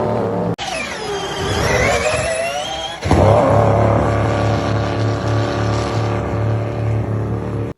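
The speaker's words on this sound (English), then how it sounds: "listening to these cars jet off the line, that sounds pretty damn cool" Hybrid race cars launch hard off the starting line, a loud, sustained engine roar with rising revs, then a deep droning note that holds steady as they pull away.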